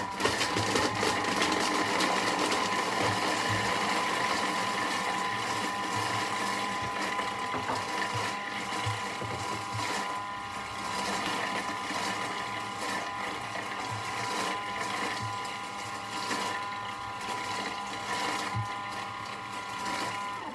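A Thermomix blends red pesto for about twenty seconds, a steady mechanical whir and grinding churn with rhythmic knocks, loud and continuous throughout with no talking.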